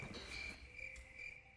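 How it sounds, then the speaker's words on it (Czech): Crickets chirp in a steady, high, pulsing trill that holds throughout, faint and soft, with no voices over it. "Ty cvrčci."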